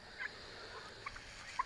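Turkeys on a farm give a few short, faint gobbles, spaced irregularly against quiet background noise, with no talking.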